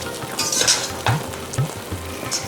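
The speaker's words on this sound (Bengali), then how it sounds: "এবার নাড়াচাড়া করে এটাকে চাপা দেবো আরও 5 থেকে 7 মিনিট" A spoon stirs mutton and potato curry in a sizzling pan, with steady frying hiss, a few scraping strokes against the metal and soft clinks, close and without talk.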